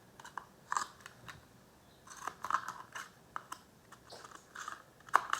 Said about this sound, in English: I snip it 4 times